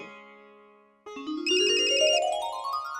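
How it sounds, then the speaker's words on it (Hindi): A phone ringtone plays alone, a fading tone followed by a bright, rising electronic melody, clear and fairly close. "केसरी जी फोन कर रहे हैं।"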